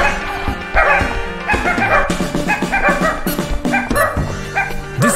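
Shiba Inu dogs in the video game Nippon Marathon give a rapid string of loud, close yips and barks with some whimpering, overlapping game sound.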